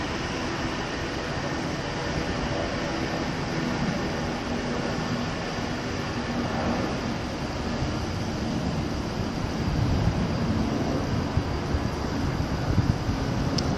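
A train pulls out of Birmingham International station with a steady, broad rumble and rush of rolling stock that grows a little louder and rougher toward the end, heard from the platform with no talk.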